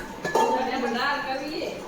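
Utensils clink and knock together during dishwashing, a few brief close metallic taps partly under a voice.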